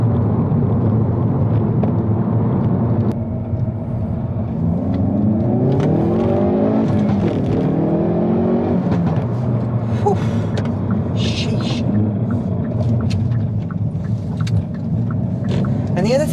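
A Hyundai i30 N hot hatch's turbocharged engine pulls and revs up as the turbo comes on boost, a rising, growling tone swelling midway over a steady road rumble, with faint voices underneath.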